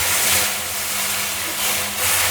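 Water poured into hot oil with fried fenugreek, cumin and coriander-cumin powder for a hilsa curry sets off a loud, steady, broad hiss that lasts the whole time.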